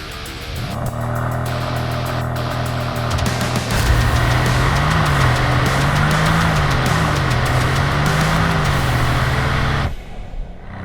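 Porsche Panamera Turbo S E-Hybrid large sedan launching from 0 to 100 km/h: a loud, rising engine and drivetrain roar with shifting whine surges, building for about nine seconds before cutting off abruptly.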